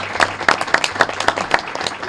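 Meeting attendees at a school board session break into applause, a dense run of sharp claps filling the room at close to moderate distance, steady and lively throughout with no talk over it.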